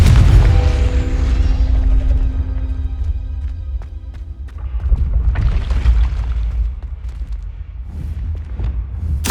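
A fire spell explodes in Hogwarts Legacy: a loud, deep booming blast with a long rumbling tail, followed by a second, smaller burst of crackling impact noise.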